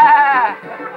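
Sheep bleating loudly in a quick guessing game on a live children's TV show, a single drawn-out wavering baa that tapers off within about a second.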